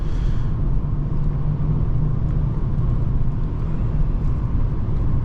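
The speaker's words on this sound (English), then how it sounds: "Little bit of wind noise from the outside" Inside a Lexus LS 430 cruising at about 70 on a decent road, steady wind and road noise forms a constant low rumble that stays even and moderately loud throughout, with no talking.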